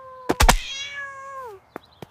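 A cat being teased lets out one clear, drawn-out meow lasting about a second, preceded by a few sharp knocks and followed by two faint clicks, in a quiet setting.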